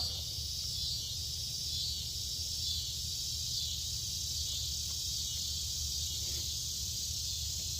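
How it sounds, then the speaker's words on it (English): Summer insects chirp outdoors beside a 2023 Kawasaki KLX300 during an oil change, making a constant high, thin trill over a low steady hum with no one talking. "I apologize about all these bugs. The downfall of it being summer."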